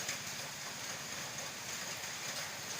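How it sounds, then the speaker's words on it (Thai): Steady rain falling, a dense even hiss with no breaks, heard alone and fairly faint, as after a downpour cools the air. "เมื่อนี้แม่นฝนตกนะพี่น้องเนาะ"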